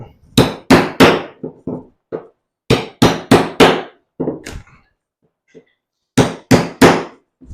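A knife hacks into drywall in loud, close, percussive strikes, mostly in quick bursts of three separated by short pauses.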